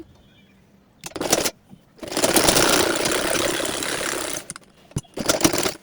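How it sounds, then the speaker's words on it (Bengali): A sewing machine double-stitches a seam on a burqa, running in loud, close mechanical bursts: two quick short runs, a long steady whir lasting a couple of seconds, then another short burst. "এখন এই সেলাইটাকে আবার একটু ঘুরিয়ে ডাবল সেলাই দিয়ে নিচ্ছি।"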